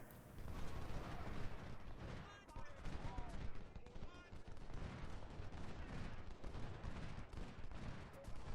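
Dense, continuous gunfire and booming artillery from units firing in a war video game, a crackling, rumbling barrage that never lets up, with faint voices talking over it.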